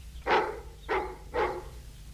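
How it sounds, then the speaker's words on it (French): A dog gives three sharp barks at a steady pace, each about half a second apart, moderately close against a quiet, low hum with no talking. "Qu'est-ce qu'il a contre nous, votre chien?"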